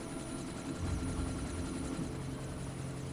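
A helicopter in the video game Evil Genius hums with a continuous low rotor throb and a faint high tone, at an even, moderately quiet level, with no voices.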